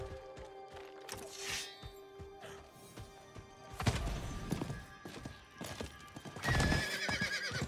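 Rhythmic hoofbeats of a galloping horse with a couple of loud whinnies, punctuated by heavy thuds, all fairly close and clear, in the video game Diablo 4.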